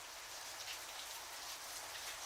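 Steady tropical rain falls outside a home, a dense even hiss of drops that holds unchanged throughout, fairly soft and with no voices.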